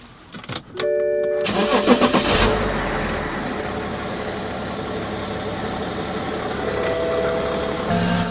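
A lifted BMW E70 X5's starter cranks briefly, then the engine catches and settles into a steady idle close by.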